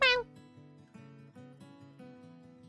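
A short, high cat meow at the very start, followed by a tonal, musical backdrop, all from the game Guild Wars 2.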